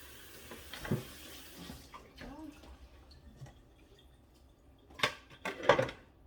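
Food rinsed under a running kitchen tap, water splashing unevenly with a few louder bursts and light clinks near the end, no talk.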